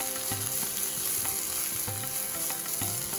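Thinly sliced onions fry for chicken biryani, a dense steady sizzle with three rhythmic stirring scrapes spaced about a second apart, close and continuous.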